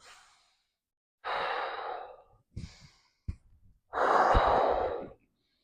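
Deep abdominal breathing during a seated relaxation exercise: long, airy breaths in and out, separated by pauses, with a few short catches between them. Close and quiet, with no words spoken.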